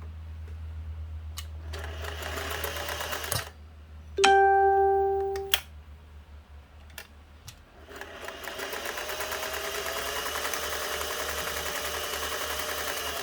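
A Singer 401a sewing machine running in bursts: a close, rapid mechanical whir of stitching, a brief sustained tonal whine in the middle, then the motor starts up again and keeps stitching steadily.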